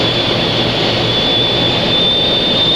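Steve Murty's jet truck engine roaring at high power, a loud, steady, dense blast with a piercing high whine riding on top, heard up close and alone.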